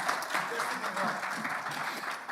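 An audience at an economic forum in Belgrade applauds steadily, a dense, even wash of clapping that holds at a moderate level for the whole stretch, with faint voices mixed in underneath.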